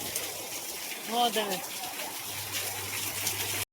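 Dense, steady hiss of heavy downpour rain pouring like a waterfall in Gujarat, with a brief muffled voice-like sound partway through and a low hum near the end.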